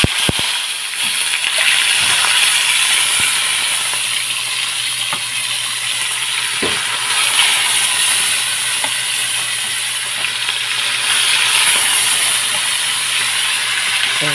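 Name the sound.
fish frying in a small pan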